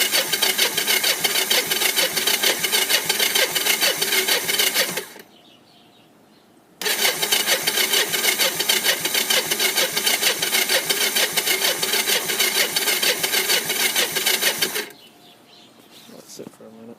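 A three-wheeler engine with the choke on, cold-started: two long spells of loud, steady, rapid mechanical chugging, separated by a short pause of near silence and then stopping again.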